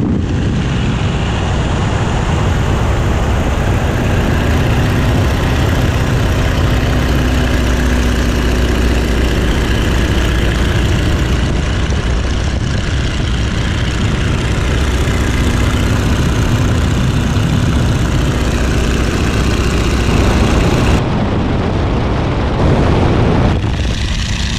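A Boeing Stearman biplane on an aerobatics ride gives a loud, unbroken engine roar mixed with rushing wind. The noise runs steadily close to the listener for the whole stretch, with a brief dip and surge near the end.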